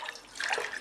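About one and a half cups of water are poured into a cooking pot for boiling, a soft, brief splashing trickle that swells slightly midway, heard alone and fairly faint.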